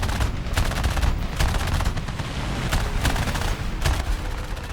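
Sustained gunfire from the War Thunder video game, with dense rapid bursts and repeated sharp reports over a loud continuous rumble, heard alone without talk.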